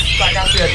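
Birds squawking loudly and continuously at a kiosk in the Pramuka bird market, where cucak kinoi songbirds are sold, with harsh calls layered over one another and a voice speaking briefly under the din.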